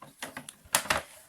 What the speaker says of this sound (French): je vais faire ça directement au massicot